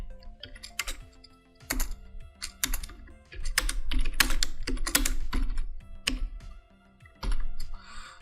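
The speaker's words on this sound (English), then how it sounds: "You can simply write on your keyboard" Close-up typing on a computer keyboard, bursts of rapid clicky keystrokes separated by brief pauses, with a faint background hum.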